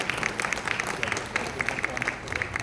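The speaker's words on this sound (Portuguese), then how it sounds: "Vou até pedir uma salva de palmas aqui para o Rubens" Audience applause in a Portuguese-language real estate tokenization event hall, welcoming the organizer Rubens to the stage; scattered claps rise and fall steadily for a few seconds, with speech mixed faintly underneath.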